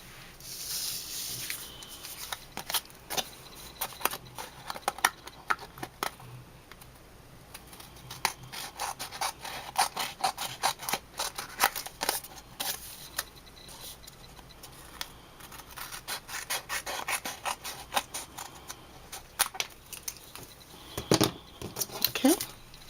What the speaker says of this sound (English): I'm going to cut the excess off